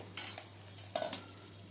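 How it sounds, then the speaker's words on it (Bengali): A thick Pahadi chaunsa dal is stirred in a pot, faint quiet scrapes and soft clinks of a spoon against metal over a low simmering hiss. "আবার একটু নেড়ে চেড়ে নিচ্ছি"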